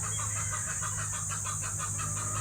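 Young roosters (stags) kept as brood stock, clucking and calling in a repeated, fairly close rhythm over a steady background hum.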